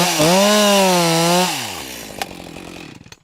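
A chainsaw cuts through multi-stemmed rhododendron, its engine revving high and loud with a rising and falling pitch, then bogging down into a rough, sputtering idle after the cut.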